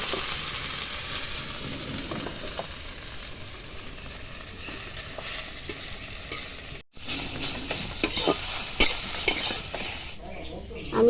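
Taro (kochu) leaves fry and sizzle in hot oil in a kadai, a close, steady crackle with stirring and occasional utensil clinks, briefly cutting out before resuming.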